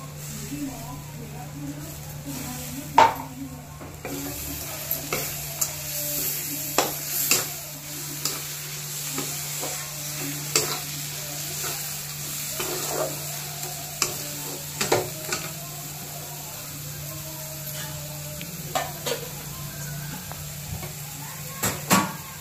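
Tomato paste stirred into sautéed masala in a pan for dhaba-style shev bhaji, a steady low sizzle with frequent scraping stirs and spoon clicks throughout.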